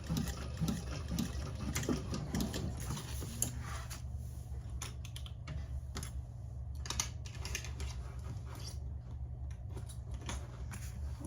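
A sewing machine stitches a candy bag seam at a quarter inch: a steady, fast mechanical whir and rapid needle clatter, louder and busier at first then settling into a continuous low hum, with no talking.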